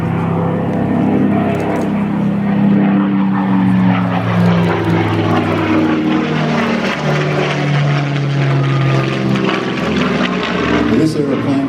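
A Spitfire Mk XVI fighter flying at an airshow in Temora, NSW: loud propeller engine drone with shifting pitch as the plane passes, continuous throughout, with a narrator's voice talking over it.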